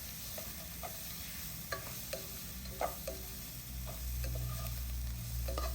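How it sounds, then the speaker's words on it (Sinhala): Chopped chillies and tomato are stirred into sprats frying in oil, with steady close sizzling and scattered scraping taps of the spoon against the pan, and no talk. "කපාගත් මාළු මිරිස් ටිකයි, කපාගත් තක්කලි කෑල්ලත් එකතු කරලා හොඳට කලවම් කරනවා."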